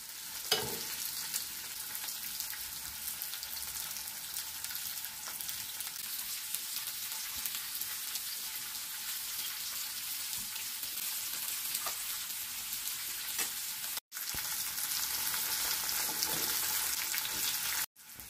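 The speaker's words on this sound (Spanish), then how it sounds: "Pondremos los pimientos a freír. Dejaremos que el pimiento se vaya haciendo poco a poco." Bell peppers fry steadily in a pan of hot oil, giving a dense, continuous sizzle that holds at an even level with a brief gap near the end. No voices are heard.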